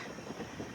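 Tiruchanur–Nanded Express (17634) moving onto the main line near Nizamabad, heard as a steady, fairly quiet rumble of rolling wagons with faint rail clatter and no voices.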